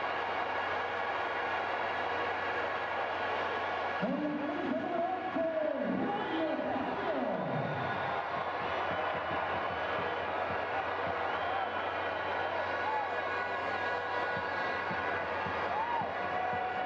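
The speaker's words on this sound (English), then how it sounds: "The crowd bouncing tonight into Tegucigalpa." Football crowd in a Tegucigalpa stadium at a Honduras vs Cuba World Cup qualifier, a dense, continuous roar of cheering and noise from the stands, with a brief swell of louder calls partway through.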